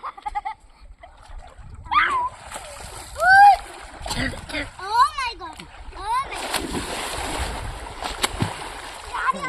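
Boys splashing and bathing in a river during Dhuleti festivities, with irregular bursts of water splashing close by, mixed with children's shouts and chatter throughout.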